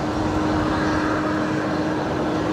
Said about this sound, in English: We don't see too many Fokkers on the legacy runway ordinarily.